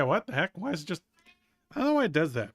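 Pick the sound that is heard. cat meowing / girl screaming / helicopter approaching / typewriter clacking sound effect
cat meowing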